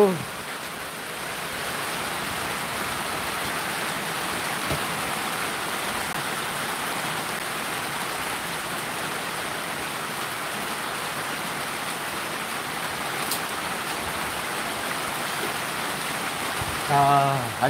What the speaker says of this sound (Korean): 하우스로 떨어지는 빗소리가 장난이 아니네요.